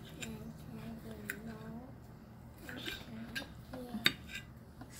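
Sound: fork and knife on a plate cutting sausage

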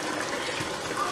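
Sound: water being drained off in kitchen

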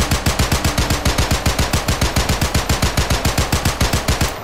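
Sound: gunfire after order to fire, video game

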